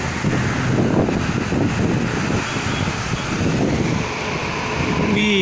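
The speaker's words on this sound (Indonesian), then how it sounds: "Dan anginnya bisa dilihat, anginnya cukup kencang ya." Strong gusty wind on the Jakarta–Cikampek toll road after rain, a loud continuous roar and buffeting rumble against the microphone, with faint traffic beneath and no talk.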